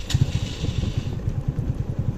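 A motorbike engine idles close by on a late-night mountain ride in Uttarakhand, a steady low chugging putter with a brief higher hiss at the start, with no voices.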